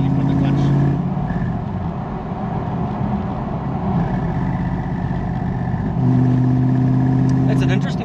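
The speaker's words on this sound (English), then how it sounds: "It actually sounds like the PCV or the purge solenoid." Engine noise from a 3UZ V8 in a two-wheel-drive Hilux with a Surf body, thought to be the PCV or purge solenoid, near and steady with a constant drone and faint tonal whine while people talk over it.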